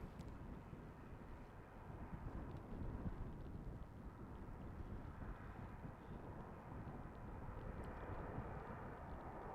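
An airliner coming in to land on runway 18R at Schiphol in winter, heard as a faint, steady low engine rumble with wind noise across the whole span, no voices.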